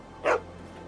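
A single short dog bark sounds in The Walking Dead Season 2 game by Telltale, clear and close over a faint steady background hum.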